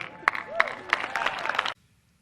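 Audience clapping fills a hall as a scattered, fairly close patter of many hands, with a few sharp individual claps and crowd murmur, then stopping abruptly into near silence.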